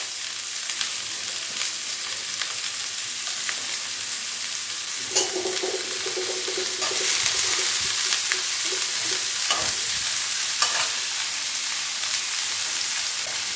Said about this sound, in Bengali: ক্যাপসিকাম, বাঁধাকপি। জাস্ট 1 মিনিট ভাজবো হাই ফ্লেমে।